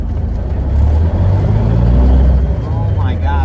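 A 1983 Kenworth K100 cabover truck idles with a low, steady engine rumble while its locked-up clutch drags, the drone holding loud and close throughout.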